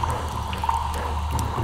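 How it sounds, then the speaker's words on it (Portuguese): Wet, steady bubbling and dripping of a gray ooze creature in a cave, a continuous liquid gurgle with low rumble beneath and no voices. "Mas o som borbulhante daquela criatura incompreensível parece não se distanciar."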